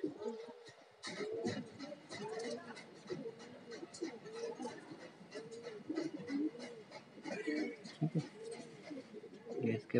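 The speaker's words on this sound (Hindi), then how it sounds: "आज हम आपको अलीगढ़ के मशहूर सुर्खी कबूतर दिखाते हैं।" Aligarh surkhi pigeons coo repeatedly in soft, rolling low calls, close and continuous, while someone talks over them and a dog briefly sounds.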